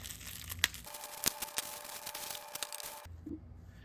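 A WORKPRO three-piece pliers set, including needle nose pliers, is unwrapped from bubble wrap and plastic, with close crinkling and a few sharp tearing snaps before it goes quiet.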